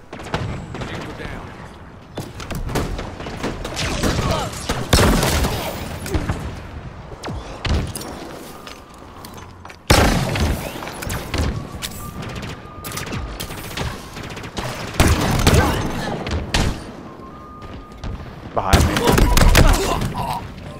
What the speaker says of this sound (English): He had a fucking shotgun.